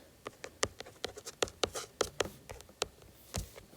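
Pen or pencil scratching on paper in short, irregular strokes, close and quiet, with small pauses between marks.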